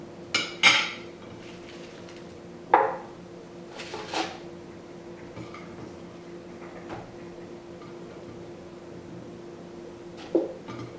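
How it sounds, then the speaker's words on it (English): Ginger and other drink ingredients dropped into a blender jar, heard as a few sharp clatters and knocks spread across a quiet kitchen room tone, each impact brief and close, with long gaps between. "So we'll go ahead and add everything"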